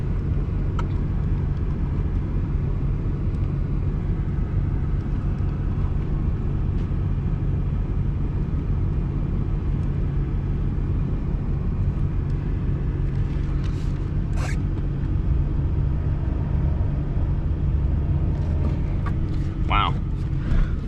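A four-wheel-drive vehicle grinds and slides along rough off-road ground, its engine a steady low rumble close to the microphone with a few sharp rattles and creaks near the end.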